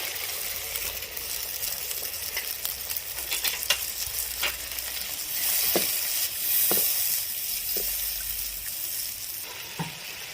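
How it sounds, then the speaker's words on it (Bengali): Water poured into sizzling masala in a pan for rohu fish kalia, a Bengali fish curry, with steady frying hiss, stirring scrapes and a few sharp bursts of spluttering as the liquid hits the hot oil. "এবার আমি এই যে এখানে 1 কাপের কম জল আছে, আমি এটা ঢেলে দেবো।"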